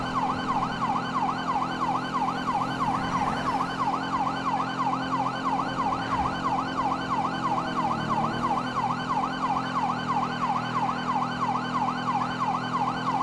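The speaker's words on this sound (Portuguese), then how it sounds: "Ligar aqui a sirene" A police motorcycle siren wails in the video game GTA V, warbling rapidly and evenly without pause. It sits over a low engine hum at a steady, moderate level.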